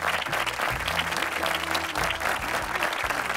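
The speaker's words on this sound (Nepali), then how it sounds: "यो गायकीको निमित्त जोरदार ताली प्लिज" Loud, dense applause from a studio audience fills a televised Nepali singing competition, a continuous close wash of clapping with faint crowd noise and a low musical hum underneath.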